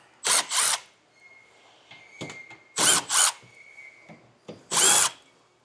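Power drill removing 7mm screws from the bottom fascia of a 2025 Chevrolet Trax, three loud close whirring bursts, each a short double run, separated by quieter ratcheting clicks and handling noise.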